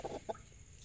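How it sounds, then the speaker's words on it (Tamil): A hen sitting on eggs in a cage gives a couple of soft, low clucks, faint and brief against quiet background. "கோழி பாருங்கள் எப்படி இருக்கு."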